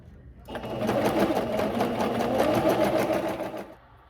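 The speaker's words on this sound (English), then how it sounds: "So I'm gonna go ahead and sew this 10 yards of tulle" A sewing machine runs a long straight seam through tulle for a tutu skirt, a continuous fast mechanical whir for about three seconds, close and steady.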